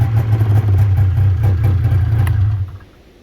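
A 1995 Polaris Indy 500 snowmobile engine idles roughly and close by with a steady low throb and light clatter, then cuts out abruptly near the end, leaving near silence.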